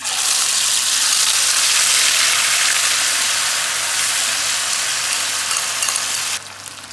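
Garlic and chilli for a Rajasthani-style chutney hit very hot oil in a pan, giving a loud, steady, close sizzle that holds for several seconds before dropping away abruptly near the end.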